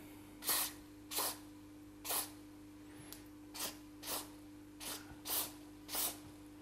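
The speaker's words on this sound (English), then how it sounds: "We'll just spray it all in there." CorrosionX spray misted into a CC3D Mini 250 quadcopter frame: eight short, quiet aerosol bursts in an even rhythm, each a soft close hiss over a faint steady background hum.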